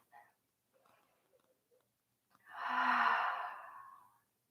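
A deep, slow breath during a yoga balance pose, a long airy exhale swelling and fading over about two seconds, close and clear, after a few faint soft sounds.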